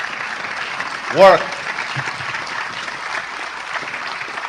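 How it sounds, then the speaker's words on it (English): Applause at the Global Biodiversity Alliance Summit in Guyana honours a prime minister. It sounds as a soft, distant wash of clapping that persists, with a brief spoken word near the start. "I think we should give her a huge round of applause for her continuous,"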